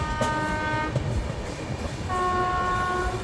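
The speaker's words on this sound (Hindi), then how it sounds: "शायद वो बाईपास लाइन से कोई ट्रेन आ रही है" A passenger train on an Indian railway line sounds its horn in two long tonal blasts separated by a pause, over a steady rumble of rolling wagons, moderately loud with no talking.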